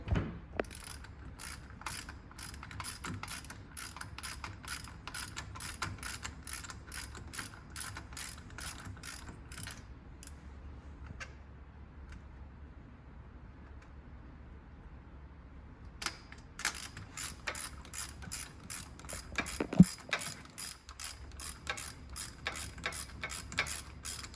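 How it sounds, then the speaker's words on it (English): Socket wrench ratcheting as it loosens the spark plug on a Janus 250 motorcycle engine, a long run of quick close clicks, then a pause and a second burst of rapid ratchet clicks. "Let me grab a socket. Now we're going to remove the spark plug."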